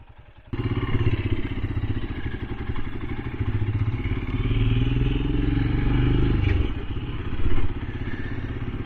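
A Royal Enfield Himalayan motorcycle pulls away in second gear through Bucharest city traffic, its single-cylinder engine thumping loud and close in a steady pulsing drone that rises gently as it accelerates, with a brief louder surge near the end.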